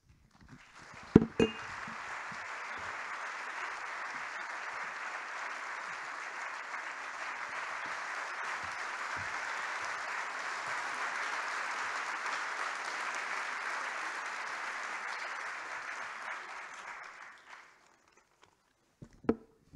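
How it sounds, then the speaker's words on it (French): Audience applause at a talk and book presentation event, a steady sustained clapping from a moderately sized crowd lasting about fifteen seconds, preceded and followed by a few brief knocks and footsteps. "on applaudit l'homme d'enthousiasme"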